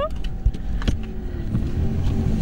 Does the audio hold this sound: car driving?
yes